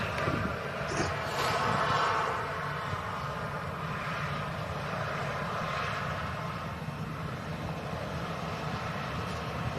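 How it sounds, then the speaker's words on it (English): An easyJet Airbus A320 departs Manchester Airport, its jet engines a broad, steady distant roar that swells slightly early on and then holds evenly, with no voices heard. "EasyJet A320 departing"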